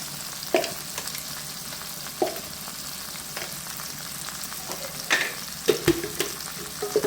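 Spices and turmeric sizzle steadily in a frying pan while a spoon scrapes and stirs, giving occasional sharp clicks against the metal, while cooking a village-style fish curry.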